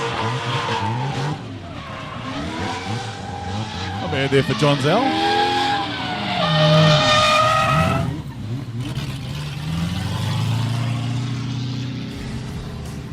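A Drift Academy drift car built by D-Spec Racing Cars skids through a qualifying run at Meremere Drift Park in New Zealand. Its tires squeal in long wavering howls with engine drone beneath, while a commentator talks over the action.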